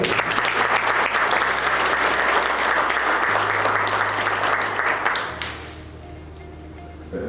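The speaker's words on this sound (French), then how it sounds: "Applaudissements pour Global." A large audience at a summit launch event in Dubai breaks into loud, steady applause that fills the room, with a low sustained tone beneath, then tapers off into a quieter murmur near the end.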